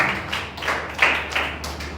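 A church congregation clapping hands together, a loose series of sharp claps at an uneven rhythm, close and moderately loud.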